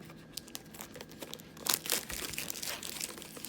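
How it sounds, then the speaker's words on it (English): Cellophane wrapping crinkles and tears as it is peeled off a boxed wireless CarPlay adapter kit for a Jaguar I-Pace, a close, busy run of crackling rips that grows louder midway. "So let's get this cellophane off for a start."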